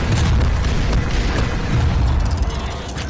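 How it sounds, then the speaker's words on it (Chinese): Cannon blasts in a Skibidi Toilet animation, heavy booming explosions in quick succession, loud and close with rumbling low end throughout. "然后用大炮快速解决。"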